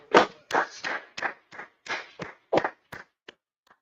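Small group clapping for an honored speaker at a gathering, a sparse run of about a dozen separate, close claps that taper off at the end.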